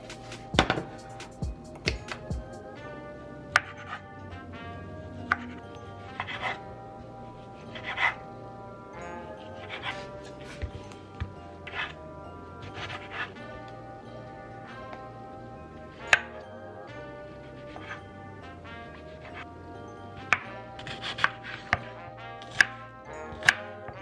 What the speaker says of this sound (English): So all my veggies and my sausage are all cut up.